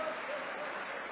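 Applause from the audience at a city mayor's State of the City address, a brief, steady wash of clapping at moderate distance.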